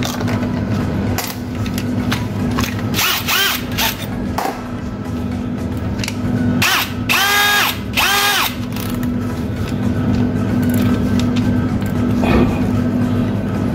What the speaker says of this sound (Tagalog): Gagamit tayo ng stainless steel drill bit.